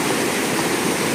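A river runs with a strong, heavy flow, giving a steady broadband rush of water that is moderately loud and unbroken for the whole moment.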